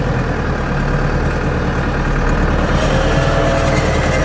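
A tractor with non-working four-wheel drive idles steadily up close, a dense low rumbling drone that stays unbroken and even throughout.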